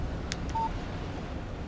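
Short electronic beep of a phone text message alert in the video game Alan Wake, a single clear tone after two soft clicks over a low background hum.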